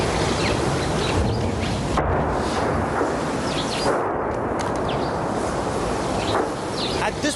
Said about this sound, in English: we are hearing some kind of a sound from that direction in terms of whether these are explosions